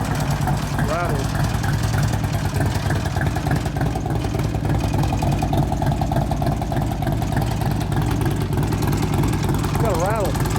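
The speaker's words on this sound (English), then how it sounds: "It's got a rattle." A 2004 Harley-Davidson FLHT Twin Cam touring bike idles steadily with a loose mechanical rattle riding on the engine note, loud and close throughout, with people talking over it.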